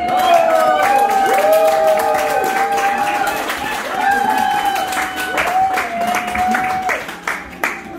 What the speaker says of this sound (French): Est-ce qu'on peut acclamer pour les mariés?